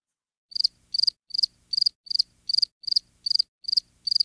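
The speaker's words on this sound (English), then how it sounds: "Listen to the crickets." Crickets chirping in a quiet night, each chirp a short trilled pulse, repeating about twice a second in a regular rhythm, close and clear with no other sound.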